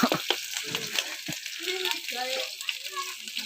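Oil poured into a hot pan for an Akha-style chicken dish crackles and sizzles in bursts, a bright frying hiss running under a person talking nearby.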